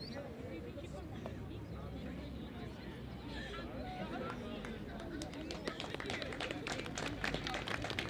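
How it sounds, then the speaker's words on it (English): Spectators at an under-17 schools field hockey tournament applaud as an injured player is carried off the field, with scattered clapping building into steadier applause over murmuring crowd noise and commentary. "there's applause"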